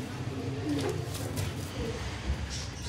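Soft, low cooing from breeding pigeons kept by a hobbyist, a few muffled throaty coos close by amid faint background noise.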